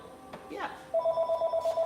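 A mobile phone rings with a near, loud ringtone of evenly spaced electronic tone pulses that starts about halfway through, after a brief murmur of voice.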